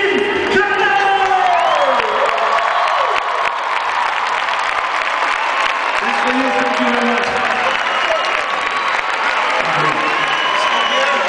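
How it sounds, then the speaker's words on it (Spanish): An awards-gala audience applauds and cheers for an honorary award at the Premios 40 Principales, with loud, dense clapping, whoops and shouts from a big crowd, and voices calling out over the clapping. "Así que, señoras y señores, por favor, ese aplauso para ese premio honorífico a Jim Carroll."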